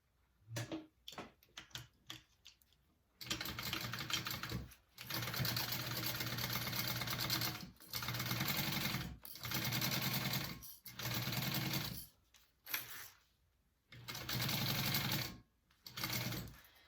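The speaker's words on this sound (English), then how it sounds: "I'm going to sew that on at 1/4 inch seam allowance" A sewing machine runs a quarter-inch seam on a unisex tote, starting with a few short stitching bursts, then several long steady runs separated by brief pauses, close and clear with no talk.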